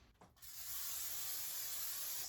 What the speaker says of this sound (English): Spraying my pan